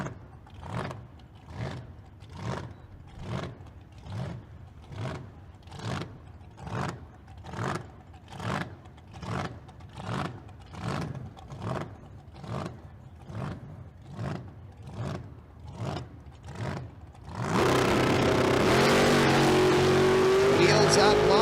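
A blown 1968 Camaro at a Las Vegas street car drag racing event throbs with a loping, rhythmic idle pulse for several seconds, then bursts into a sudden, loud, sustained full-throttle roar at the launch.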